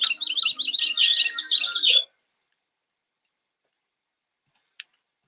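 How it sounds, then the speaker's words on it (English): A rainbow toy plays Tweety Bird chirping noises, a rapid run of high, bright electronic tweets lasting about two seconds, then stopping abruptly into near silence with a few faint clicks. "the rainbow is going off. I did not realize it did Tweety Bird noises."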